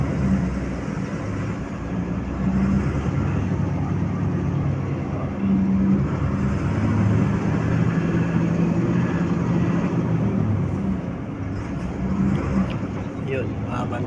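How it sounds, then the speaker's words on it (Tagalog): Heavy road traffic rumbles as a steady low drone of engines with swelling passes of nearby vehicles, while people talk over it. "Oh, heavy traffic."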